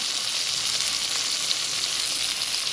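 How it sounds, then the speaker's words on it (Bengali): Hilsa fish pieces fry in hot oil with a steady, loud, close sizzle that stays even throughout, alone with no talk. "দেখো, আমি মাছটা যে ভাজছি কতটা তেল উঠেছে মাছে।"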